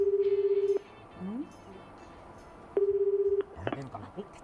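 A telephone call on a Japanese TV variety show rings out with two steady ringback tones separated by a pause, followed by brief clicks and a faint voice as the line connects.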